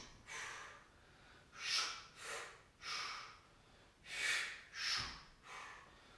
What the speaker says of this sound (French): Allez, soufflez, soufflez.